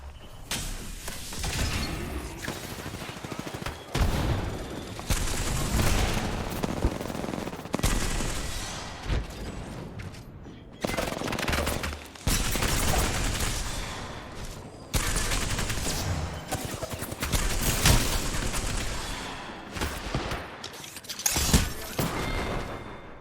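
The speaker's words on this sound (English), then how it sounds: "I'm so tired of fucking gun noise" Continuous video game gunfire, dense bursts of automatic shots with brief pauses, loud and close throughout a frantic multiplayer match, with mechanical clatter mixed in.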